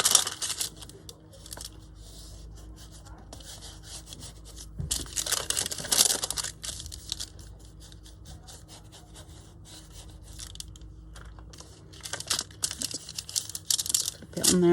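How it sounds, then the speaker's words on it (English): Scissors cut through the paper seam of a file folder, with short rustling snips and scraping bursts in close, quiet detail. "Going to cut that bit there, that seam."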